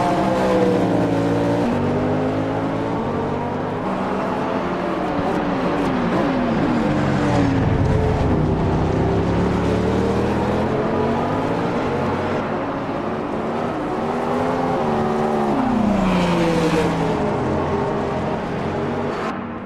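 Hypercar engine roaring through a sim race at Road America, revving up and down with rising and falling pitch sweeps as it brakes and accelerates, loud and continuous with no talking.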